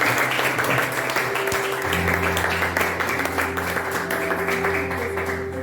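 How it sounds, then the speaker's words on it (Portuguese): Members of a church youth program audience give a round of applause for Jesus, a sustained even wash of clapping that holds steady throughout, with a low tonal hum and faint voices underneath. "Vamos dar uma salva de palmas para Jesus."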